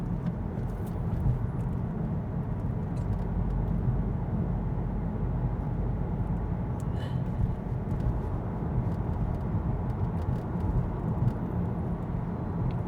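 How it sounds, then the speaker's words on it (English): A Mk8 GTI cruises along in a steady, continuous drive, with low engine and road drone filling the cabin at an even level and no talking. "I'm just going to enjoy driving the car for a little bit more"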